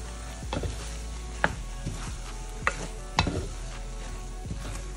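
Paneer is stirred and fried in a pan, giving a steady close sizzle punctuated by several sharp scraping and tapping strokes of the spoon against the pan, with no talking.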